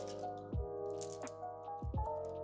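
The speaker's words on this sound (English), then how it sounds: "You see that ice going in the pan?" Ice cubes drop into a pan of hot brown sugar syrup, giving a few distinct plops and squishy sizzles against a steady background hum.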